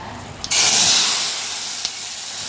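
Spices for tempering hit hot oil with a sudden loud hiss that starts abruptly, holds strong and broad for about a second, then slowly fades into a steady softer sizzle, with a brief crackle near the end.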